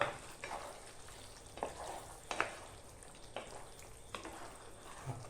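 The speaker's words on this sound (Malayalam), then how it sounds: "നന്നായി ഒന്ന് ഇളക്കുക" Chicken curry with butter sizzles in a pan while being stirred, soft frying hiss broken by several distinct scraping strokes of the spoon at irregular intervals.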